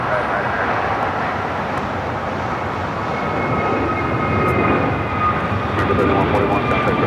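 American Airlines airliner taking off at Los Angeles International Airport, a loud broad jet engine roar that swells slightly toward the end.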